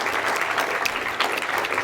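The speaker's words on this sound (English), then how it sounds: "Maybe we can give them another warm applause." An audience at the opening ceremony of the SensUs 2022 biosensor competition claps in a dense, steady burst of applause, close and loud throughout, with no talking over it.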